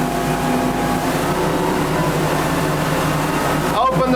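Engines drive a 34-foot SilverCAT hard-top catamaran at speed across the water, a loud steady drone with rushing water, and a voice speaking briefly near the end.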